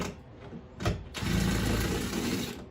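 Gas tank screws backed out on a Porter Cable 8000 watt generator with a power driver, a short whir and then a longer close, buzzing mechanical spin.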